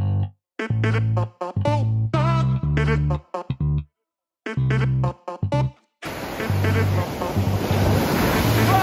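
Ocean surf rushes in at a beach in Busan during the last three seconds, a steady loud broadband wash under ongoing music that fills the whole stretch.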